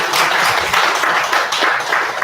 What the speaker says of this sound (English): You should give us a round of applause.